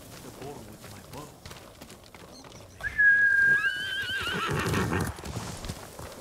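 In the video game Ghost of Tsushima, a horse gives one loud, shrill neigh that rises and wavers, then breaks into snorting and hoof sounds, following quieter gameplay ambience with faint voices.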